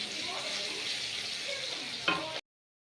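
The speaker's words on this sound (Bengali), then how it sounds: "তো তখন একটু আলুটা ভাজা হবে" Potatoes frying in oil in a pan, a steady soft sizzle with a brief stirring clatter near the end before it cuts off abruptly.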